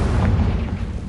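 A Confringo fire spell blasting in Hogwarts Legacy, a single loud, dense boom with heavy low rumble that sustains for about a second without trailing off.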